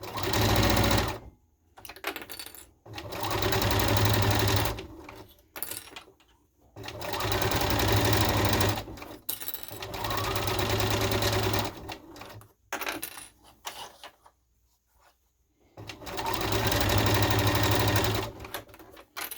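A sewing machine runs a straight stitch on a scrub hat in long, steady whirring runs. The runs are broken by short pauses, and the machine sounds close and fairly loud. No one speaks.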